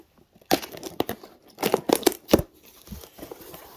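Cardboard box holding old Lego pieces being opened, with several close, sharp bursts of crinkling and tearing in irregular succession, then quieter rustling.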